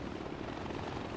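Helicopter taking off in the video game Far Cry 4, a loud, steady, dense rotor and engine roar filling the short stretch without any talk.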